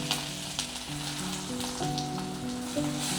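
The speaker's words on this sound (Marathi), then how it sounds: "तेलामध्येच आलं टाकणार आहे" Ginger sizzles steadily in hot oil in a pan, a continuous crackling fry with brief spits and pops, close and fairly loud, while a cook prepares spicy Maharashtrian mutton sukka and ukkad.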